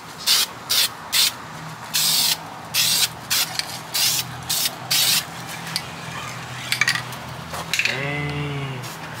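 Primer filler on a Subaru WRX fender is sanded flat by hand in about nine rhythmic, rasping strokes, each a loud, even scrub with short pauses between, followed by a brief low sound at the end.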